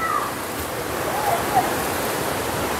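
A small muddy river flows through the rocks of Saklikent Canyon in Turkey, giving a loud, continuous rushing wash of water with no clear speech over it.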